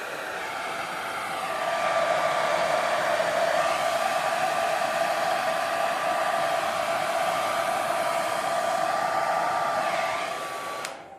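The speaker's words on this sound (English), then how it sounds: "so let's go with the hairdryer." A hair dryer on high heat and low speed blows with a loud, steady whooshing hum and a thin high whine, running continuously up close over resin artwork before cutting off at the end.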